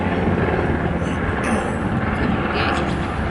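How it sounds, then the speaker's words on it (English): A steady, loud rotor roar fills the whole stretch, a continuous helicopter drone without clear breaks. "It's the helicopter from MASH"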